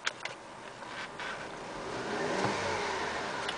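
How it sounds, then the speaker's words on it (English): 2012 Mercedes C250 engine revving while parked, a smooth mid-pitched whirring roar that builds steadily and holds, heard close with no talk. "I'm going to rev the engine"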